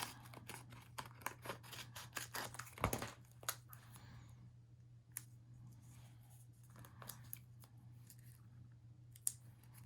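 Scissors snip through adhesive craft material in a run of close, crisp cuts during the first three seconds, then a few scattered clicks and crinkles of handling over a steady low hum.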